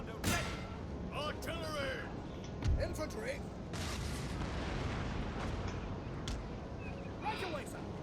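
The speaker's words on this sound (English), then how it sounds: "Six-pounder ready! Artillery!" Six-pounder artillery cannons fire in a Napoleon: Total War battle during a British campaign, with several deep booms spread across the clip amid battlefield noise and voices.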